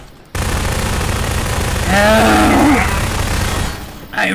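Heavy gunfire from many guns pours in during a horror-map boss fight in the video game Garry's Mod, a continuous rattling barrage that surges louder midway, with a voice briefly breaking in near the end.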